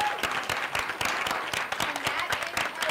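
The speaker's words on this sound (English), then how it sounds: "A round of applause once again." A dense crowd claps steadily in applause at the Flow Forward 2024 event, a close, continuous patter of many hands lasting a few seconds.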